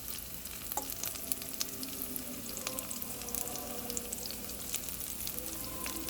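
Onions and pre-boiled potatoes fry in a pan with a steady, close sizzle, broken by occasional scraping and clicking stirs, with no voices.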